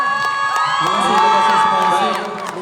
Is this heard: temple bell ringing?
no